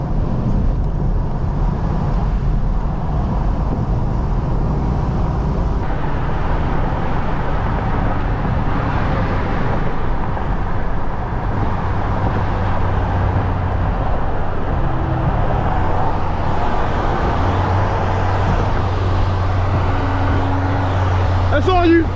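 A Honda Accord fitted with a twin-turbo V8 gives a loud, continuous engine and road drone, with people talking over it throughout.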